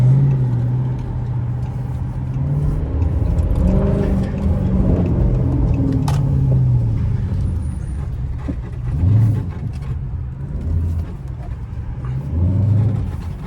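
Straight-piped Chrysler 300S Hemi V8 exhaust at night in Mexico, a loud continuous low rumble with rising and falling revs throughout, heard from inside the car.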